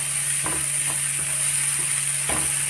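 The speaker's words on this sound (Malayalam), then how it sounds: "പച്ച ഗ്രീൻ പീസ് അത് ഇതിൽ ചേർക്കാം നന്നായിട്ടൊന്ന് മിക്സ് ചെയ്യാം" Green peas are stirred into chicken samosa filling in a hot pan, a constant close sizzle broken by a few soft scrapes of the spoon against the pan.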